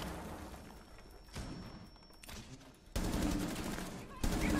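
Gunfire in a Ubisoft shooter game, bursts of shots that grow louder and denser toward the end, mixed with game noise and talk.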